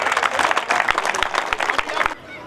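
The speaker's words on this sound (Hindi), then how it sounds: "तालियां" Crowd applause for kabaddi player Pawan Sehrawat at a shooting ball championship and award ceremony, a steady dense wash of clapping with sharper claps standing out, ending abruptly.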